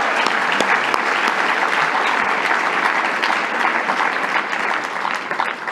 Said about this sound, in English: let's give a round of applause to our laureates as well